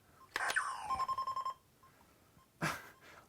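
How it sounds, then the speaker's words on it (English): A Lazer Tag Photon toy by Worlds of Wonder: a rapid series of electronic beeps pulses for about a second, then a loud klaxon-like burst of harsh noise blares briefly, repeated twice, with quiet between. "you've also got a klaxon when you actually hit your target"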